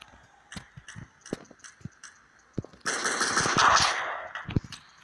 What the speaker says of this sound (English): Oh jeez, I'm getting shot at.